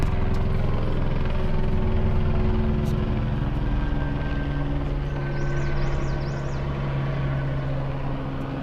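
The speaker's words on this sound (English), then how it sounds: "Well, look, there's a helicopter." A helicopter flies close overhead near Everest base camp, its engine and rotors a loud, steady, droning roar that fades slightly toward the end.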